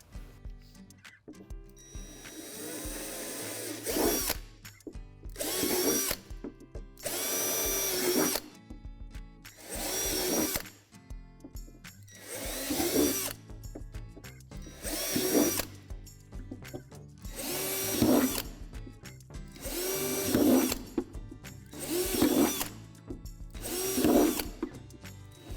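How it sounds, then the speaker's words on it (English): A power drill bores out a dozen holes in the bottom of a plastic Lifetime playhouse sink, loud whirring bursts repeating in a steady rhythm with short gaps between, close and alone without talk. "There are 12 holes in the bottom of the sink that need to be drilled out"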